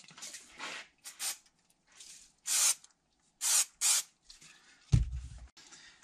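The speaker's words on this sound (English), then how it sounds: "We're going to use a tiny mist of this 3M Super 77." 3M Super 77 spray adhesive is misted onto a carbon fiber infusion mold in several short, sharp aerosol bursts of hiss, spaced irregularly and fairly close, with a brief low thump near the end.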